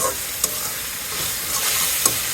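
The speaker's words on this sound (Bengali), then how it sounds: "বাদ বাকিগুলো একটু ভেজে রাখি" Vegetables fry in a pan with a loud, close, continuous sizzle and a couple of sharp stirring clinks, no talking.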